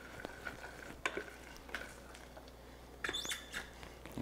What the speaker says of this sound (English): we're gonna mix these in, grab these stragglers, and then we're gonna take it off the heat